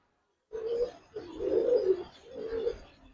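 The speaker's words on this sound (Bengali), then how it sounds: "বিগ সাইজের একটা মাদি কবুতর" A big female pigeon cooing at a pigeon farm: three low, throaty coos in a row, close and clear, with silence before the first.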